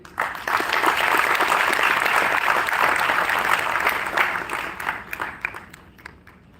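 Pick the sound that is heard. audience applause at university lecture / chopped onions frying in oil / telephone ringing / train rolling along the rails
audience applause at university lecture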